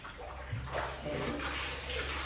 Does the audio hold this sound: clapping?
no